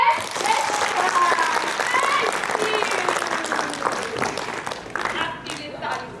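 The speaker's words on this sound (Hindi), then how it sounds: "ताली बजाएंगे।" An audience at a book festival in Ladakh breaks into sustained applause, with voices and cheering mixed in over the clapping before it thins out toward the end.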